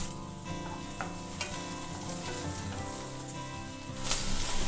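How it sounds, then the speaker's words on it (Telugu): Chopped onions fry in hot oil with a dense, continuous sizzle and crackle that stays loud and close throughout and swells slightly near the end, with no voices. "ఆయిల్ వేడైంది. ఇప్పుడు ఉల్లిపాయ ముక్కలు వేసుకుందాము."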